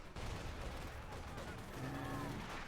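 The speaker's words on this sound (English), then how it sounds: "That sounds like artillery there from Cblanco." Artillery fire in the real-time strategy game Company of Heroes 2, a dense, continuous rumble of blasts and battlefield noise with a voice talking over it.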